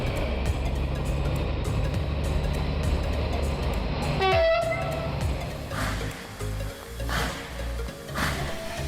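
A model train runs on a three-rail layout, rumbling and clattering steadily, with a brief horn toot partway through before the running noise continues more unevenly.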